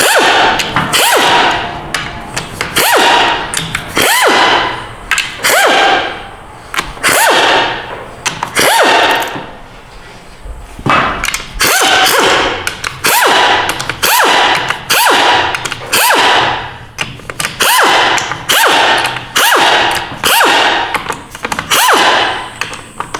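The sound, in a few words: bolts being removed from a transmission valve body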